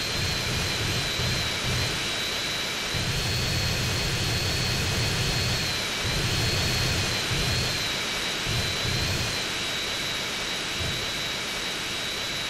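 Steady, loud jet engine roar from a vehicle running in jet mode in GTA San Andreas Definitive Edition, with a constant high whine over a rumbling low end that pulses slightly throughout.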